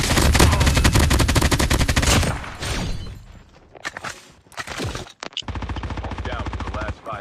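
Gunfire in Call of Duty Mobile during a battle royale match while under sniper fire, dense rapid automatic bursts loud up front, a brief lull with scattered shots, then another sustained burst.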